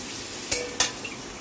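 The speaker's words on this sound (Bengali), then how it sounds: "সমস্ত পেঁপেগুলো দিয়ে দিচ্ছি তেলের ওপরে।" Boiled raw papaya pieces hit hot oil in a pan, giving a steady faint sizzle with two sharp bursts of frying as they land and are stirred.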